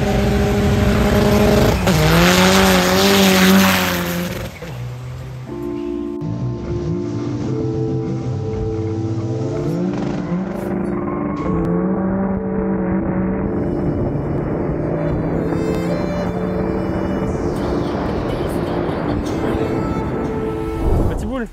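A tuned Seat Arosa TDI with over 400 horsepower revs hard with loud, screaming engine notes and shifting pitch sweeps, then settles into a rumbling, fluctuating roar with further revving, loud and close throughout.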